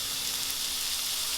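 Chopped onions sautéing in hot oil with cinnamon and bay leaf while a chicken gravy is being made, giving a steady, close sizzle with a soft hiss throughout and no talking.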